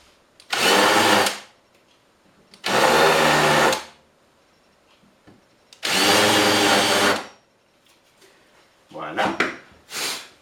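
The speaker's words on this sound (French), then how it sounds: "c'est une mèche pointue qui va me permettre de faire un petit creux pour que la vis rentre dans le bois" A pointed drill bit boring a small pilot hole in wood: three loud, even bursts of power-drill whir, each about a second long with silent gaps between, then a final shorter, stuttering run.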